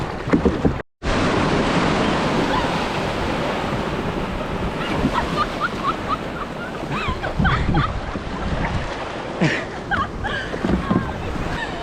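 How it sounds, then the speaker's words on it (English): Steady wash of gentle ocean waves with broadband wind rushing across the microphone while kayaking, continuous and fairly loud, with faint voices and splashes in the background. "Gentle waves, light breeze."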